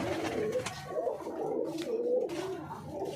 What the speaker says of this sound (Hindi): ये सभी बच्चे वाले कबूतर हैं जी